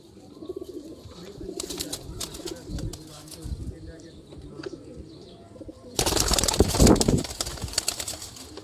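Sialkoti pigeons held for sale coo softly and repeatedly nearby amid scattered chirps, with a voice in the background. A loud, rustling burst near the end may be flapping wings.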